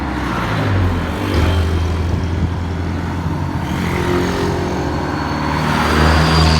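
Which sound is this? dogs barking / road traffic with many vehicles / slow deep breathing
road traffic with many vehicles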